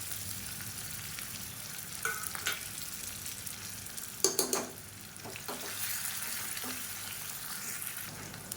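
Small onions and unpeeled crushed garlic cloves fry in hot oil for green gram sambar, a steady close sizzle with a few clattering spoon stirs against the pan midway, no voices.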